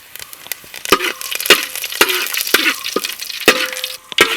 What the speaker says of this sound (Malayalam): അതിനകത്തോട്ട് നമുക്ക് കടുക് ഇട്ട് കൊടുക്കാം. കടുക് ഇട്ടിട്ട് കൂടെ തന്നെ നമുക്ക് കൊച്ചുള്ളി ഇട്ട് കൊടുക്കാം.